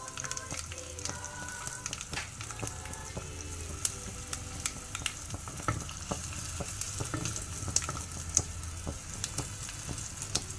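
Crushed garlic cloves and asafoetida powder frying in hot oil make a steady, quiet crackling sizzle dotted with small pops and stirring sounds, close up with no talk.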